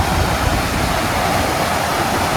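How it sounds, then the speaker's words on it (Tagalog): Strong river water rushes steadily through a park after heavy rain, a dense, continuous roar heard close and alone without pause. "Lakas ng tubig niya oh."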